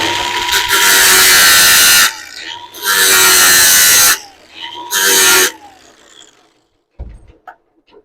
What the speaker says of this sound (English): I got a bolt cut off, and I got it stuck in my drill press